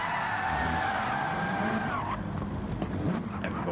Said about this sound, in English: a big yank of the handbrake for a celebration as well